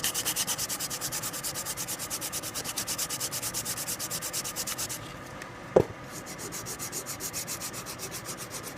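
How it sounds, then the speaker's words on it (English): Sandpaper rubs back and forth along a wooden axe handle in a fast, even rhythm of close raspy strokes, pausing briefly around a single sharp knock before the steady sanding resumes. "I'm just letting the sandpaper do the work."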